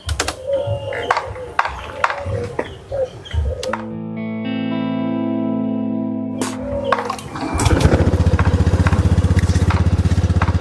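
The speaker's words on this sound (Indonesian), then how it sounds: "aku yakin motor ini pasti hidup" A motorcycle engine being repaired sputters and catches, then holds a steady rumbling idle, which grows louder and settles into a rough, pulsing run near the listener.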